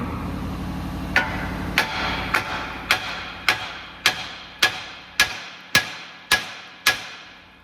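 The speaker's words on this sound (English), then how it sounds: "now we're gonna just hammer on this knuckle here." Sharp metallic hammer strikes on a steel steering knuckle of a 2017-2025 Honda Ridgeline, about a dozen evenly spaced blows, close and loud over a low mechanical hum.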